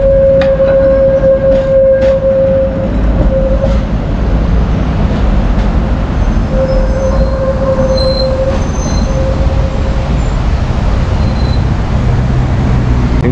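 An old tram runs through a Bosnian city, with a steady loud rumble of wheels on rails, a sustained high wheel squeal in two long stretches, and no talk.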